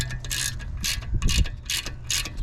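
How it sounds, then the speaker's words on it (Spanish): A 13 mm ratchet wrench tightens a front brake caliper bolt on a Volkswagen Jetta MK7: close, loud bursts of rapid metallic clicking that repeat in short strokes with small pauses between them. "tu 13 milímetros y comienzas a cerrar el tornillo"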